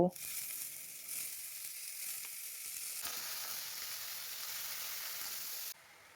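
Cut squash fries in oil with five-spice seeds, dried red chillies and bay leaves, with salt and turmeric added, producing a steady, close, even sizzle with no voices.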